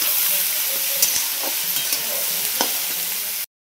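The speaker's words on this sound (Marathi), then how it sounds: "कांदा चांगला आता लालसर भाजून घेते" Onion frying in a pan, a continuous bright sizzle with a few stirring clicks and scrapes, close and steady before cutting off abruptly.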